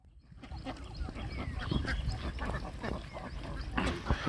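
Ducks on a riverbank quack in short, repeated bursts at moderate distance over an outdoor background murmur.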